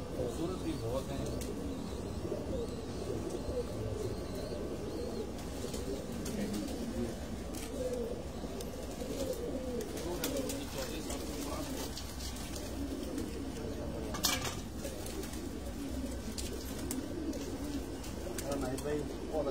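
Pigeons coo steadily on a rooftop in Sukkur during a pigeon-fancier show, soft and continuous, with people talking in the background.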